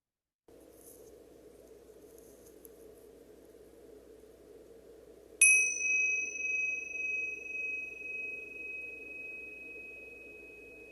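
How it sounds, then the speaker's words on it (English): A meditation bell is struck once after a stretch of low hum, giving a single clear ring with a pure sustained tone that slowly pulses and fades. "allowing that sound of the bell and the silence that follows to welcome you into your space of practice"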